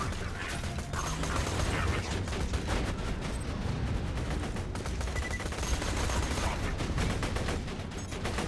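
Guns blaze in the looter-shooter Borderlands, a dense, continuous stream of rapid automatic shots and mechanical clacks, loud and close, with game effects mixed in throughout.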